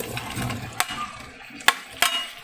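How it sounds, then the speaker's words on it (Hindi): Roasted chicken pieces go into a pan for Chinese chilli chicken, giving a few sharp clacks and scrapes over a low background hiss, fairly close and without talk. "अब हम इसके अंदर जो हमने चिकन को रोस्ट किया हुआ था वो हम इसके अंदर ऐड करेंगे।"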